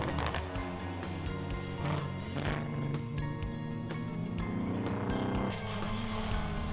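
BMW E46 rally car on a stage, its engine droning steadily at close range with rising and falling revs through gear changes, loud and continuous throughout.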